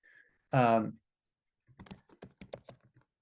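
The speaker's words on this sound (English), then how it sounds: "So Darren, I can hear you typing and everything." Computer keyboard typing comes through a call microphone as a quick cluster of sharp clicks, after a short loud burst, with no talking.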